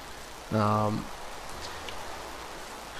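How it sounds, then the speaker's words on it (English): Rain falls steadily in the video game Minecraft Xbox 360 Edition, a constant soft hiss with a brief voiced sound and a short pitched tone over it. "we got a little rain going on here, but that's alright"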